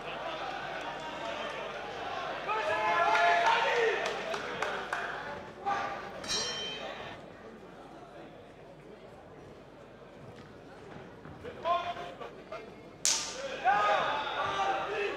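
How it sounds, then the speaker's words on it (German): Low kicks slap against the leg during a kickboxing fight, sharp smacking impacts scattered among crowd noise and corner shouts, with a commentator's voice running over the action. "Da klatschen die Low Kicks."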